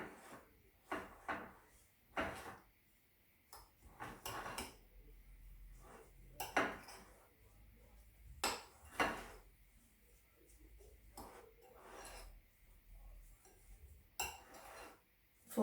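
Coconut, sugar and a whole egg being mixed in a bowl, with intermittent clinks and scraping knocks of a utensil against the bowl, irregular and close, separated by quiet pauses.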